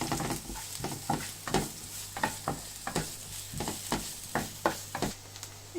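Chopped onion and garlic sautéing in a pan for Italian-style pasta, a steady close sizzle broken by regular scraping stirs of the spoon.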